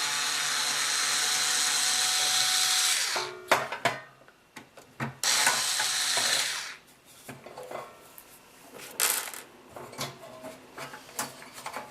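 Screws being unscrewed from an old Nintendo NES console with a screwdriver: a steady scraping whir, then a run of sharp metallic clicks and rattles as the screws loosen, close and fairly loud.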